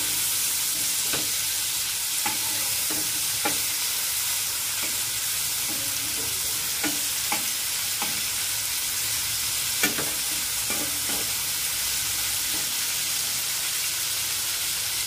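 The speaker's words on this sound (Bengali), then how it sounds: "মাছগুলো এক পাশে ভাজা হয়ে গেছে, আর এক পাশটাকে এভাবে ভেজে নেব।" Prawns fry in a hot pan for a malai curry, giving a steady sizzle with intermittent stirring and clinks of a utensil against the pan, no voices present.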